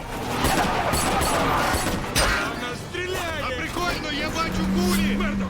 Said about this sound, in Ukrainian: Так ні у нас стріляють! У нас справді стріляють!